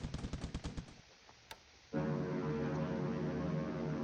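An aircraft strafes an airbase in War in the Pacific: a rapid burst of machine-gun fire, a pause, then a loud, sustained droning roar of engines.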